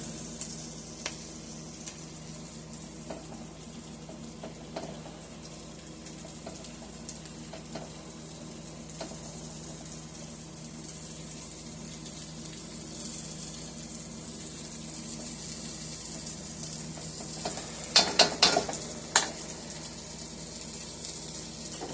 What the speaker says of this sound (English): In the same pan here, I'm going to be doing my meatballs